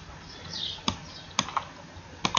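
An email address and password entered on a keyboard while logging into a website: a few sparse, separate key taps with pauses between them, fairly quiet over faint room noise, no talking.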